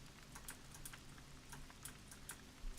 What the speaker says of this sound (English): I think we have to wait for this rain